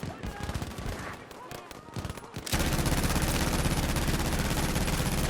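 British machine gun in Battlefield V, fired from a bipod, starts with sharp separate shots and then breaks into a dense sustained burst of rapid fire, loud and close.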